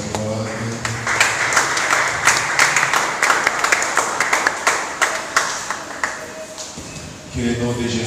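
A church congregation at a Sunday service claps rhythmically in steady unison for several seconds, loud and close, with voices and cheering mixed in before a speaking voice resumes.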